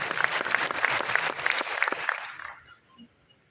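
A lecture audience breaks into loud, dense applause during a Marathi talk by the author of a book on Shivaji as a management guru. The clapping holds steady, then fades out over the last second, leaving a quiet room.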